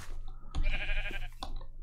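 Sheep bleating in the Minecraft Java Edition video game, a single wavering nasal bleat up close followed by a shorter second call, standing out clearly against quiet in-game background sound.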